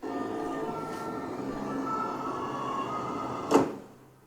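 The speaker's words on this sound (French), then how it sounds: "le son de la ville va s'arrêter au moment où la porte claque" City ambience for a homemade radio jingle: a steady, continuous low urban rumble with a rail-like drone, abruptly cut by a single loud door slam, followed by a brief decaying echo and near silence.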